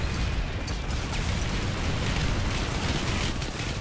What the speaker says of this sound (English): There's missiles flying everywhere.